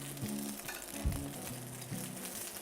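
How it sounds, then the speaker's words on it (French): Andouillette sausages in natural casings browning in hot oil in a pan, giving a steady close sizzle with a few soft bumps and scrapes as they are moved. "L'huile est chaude, je vais poêler mes andouillettes."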